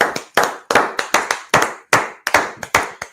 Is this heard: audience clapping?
yes